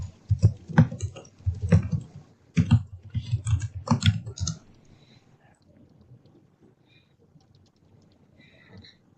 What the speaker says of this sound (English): I can't type here on this stupid keyboard.